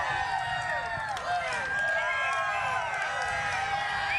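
A NASCAR All-Star Saturday trackside crowd cheers and shouts as a hat is thrown to them, a dense wash of excited voices with rising whoops and whistles sustained throughout.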